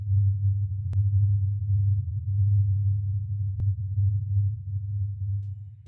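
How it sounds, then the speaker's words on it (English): A recreation of the Taos hum: a steady, low droning tone like an idling diesel engine holds without a break throughout, fairly loud and alone, with a couple of faint brief clicks. "Those who hear the hum describe it as a persistent, low droning noise similar to an idling diesel engine."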